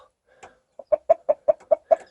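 A rooster gives a quick run of about six close, evenly spaced clucks, loud and nearby, with nothing else around.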